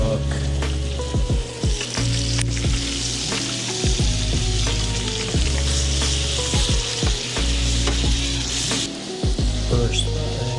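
Fresh-caught landlocked salmon frying skin-side down until crispy, a loud, close, continuous crackling sizzle with frequent sharp pops and spits running throughout; no speech.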